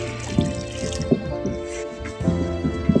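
Water is poured onto the roots of a potted rose plant, giving a steady trickling splash with irregular drips and small gurgles, close by and moderately loud.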